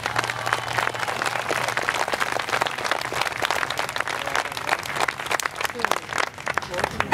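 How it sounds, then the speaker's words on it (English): A crowd at an outdoor Veterans Day commemoration in a park in Oxnard, California, gives sustained applause, a dense patter of clapping with a low steady hum underneath, continuing evenly throughout. "Let's give them a round of applause."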